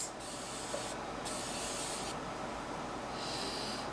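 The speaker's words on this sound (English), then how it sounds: "that is called Sweet Grace Baking Spray" Sweet Grace Baking Spray setting spray misted in three quick hissing bursts, close and soft, with short pauses between.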